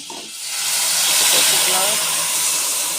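Ground paste hitting hot oil and butter in a pan for a paneer gravy, giving a steady, loud hiss of sizzling that swells after a brief quieter start and holds close and continuous.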